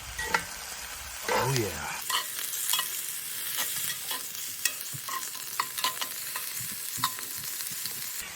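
Fajita vegetables hiss and crackle in a hot pan as they are turned, with repeated utensil scrapes and clacks over a continuous sizzle; someone speaks briefly at the start.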